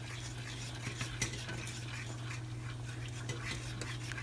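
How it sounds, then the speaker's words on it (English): A utensil stirs cornstarch into boiling liquid in a pot, giving soft, continuous scraping and light clinks against the pan over a low bubbling hum. "So I'm going to add my cornstarch. I'll do it with my other hand. Then you start stirring it."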